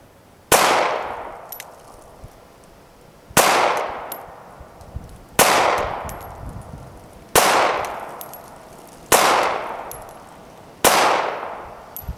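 Six sharp, loud shots from a Kahr P380 .380 pistol at a shooting range, spaced roughly two seconds apart, each a hard crack followed by a ringing decay, with faint metallic clinks of ejected brass between them.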